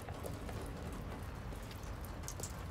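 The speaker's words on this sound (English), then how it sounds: "This would be a lot easier if it wasn't raining." Steady rain falls in the video game Detroit: Become Human, a soft, even hiss of drops on surfaces with no talk over it.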